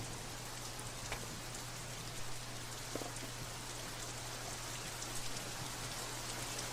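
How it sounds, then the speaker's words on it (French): Heavy rain falling in an anime episode, a dense continuous hiss of downpour with scattered drop taps, steady and fairly faint, with no voices. "Quel déluge."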